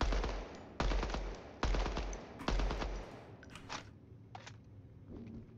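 Gunfire in the shooter game Apex Legends comes as four loud, sustained full-auto bursts at an even pace, followed by fainter scattered clicks and game sounds.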